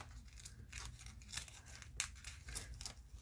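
Piece of paper ripped off by hand, a series of quiet rasping tearing bursts in uneven rhythm, close and soft with no voices.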